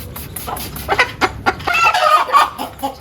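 A young rooster grabs and attacks a hen, causing loud, close clucking and agitated squawks in quick, irregular bursts, with other chickens clucking nearby.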